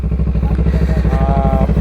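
A Kawasaki Eliminator 500 motorcycle engine drones steadily on a test ride, its close, loud, even rumble pulsing fast and low with a faint rising whine near the end.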